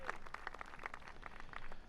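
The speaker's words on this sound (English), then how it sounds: "give yourselves a round of applause" Applause at a team dinner in the F1 2021 video game: a small group claps steadily but faintly for about two seconds, sounding thin and slightly distant.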